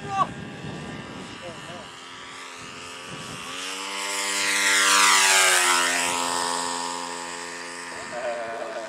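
An airplane taking off roars overhead on a windy morning in Ourinhos, São Paulo, its engine pitch sweeping up and then down as it passes close and loud, with people talking briefly before and after.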